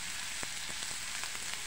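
Red chili peppers frying in a pan, a steady close sizzle with occasional small pops and crackles, no talking.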